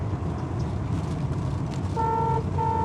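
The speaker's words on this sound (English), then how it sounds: "Horn works." Horn of a 1967 Ford Mustang A-code fastback sounding two clear blasts, a longer one and then a shorter one, over a steady idling engine and cabin rumble.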